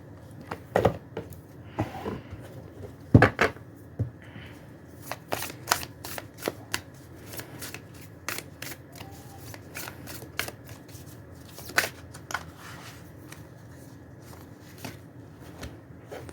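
Oracle cards are shuffled by hand in a quiet room, giving irregular crisp riffling bursts and soft taps spread over the whole stretch, fairly faint with no talking.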